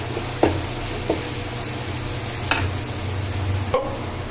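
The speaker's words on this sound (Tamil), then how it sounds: "இப்போ இஞ்சி பூண்டு போட்டு ஒரு வதக்கிட வேண்டியதான்" Ginger and garlic sautéing in a pan for a prawn curry, giving a steady soft sizzle broken by a few sharp stirring knocks from a utensil against the pan.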